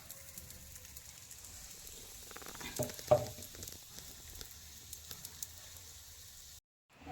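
Spinach paneer kofta balls fry in a pan with a quiet, steady sizzle, a few louder crackles and spatters near the middle, then a brief cut to near silence at the end.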